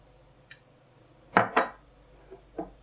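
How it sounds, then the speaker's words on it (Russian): A spoon clinks and taps against a bowl a few times while mayonnaise is added to a garlic filling for a Raffaello-style salad appetizer, with short, close, moderately loud knocks separated by quiet gaps. "Добавляю майонез."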